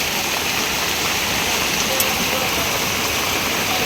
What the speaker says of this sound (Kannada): ಎಷ್ಟು ಜೋರು ಮಳೆ ಬೀಳ್ತಿದೆ ಅಂತ.